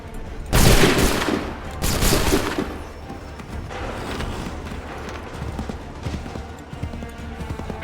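Musket volleys from lines of soldiers in Assassin's Creed 3 Remastered: two loud, sharp crackling bursts close together near the start, then a lower rumble of battle noise.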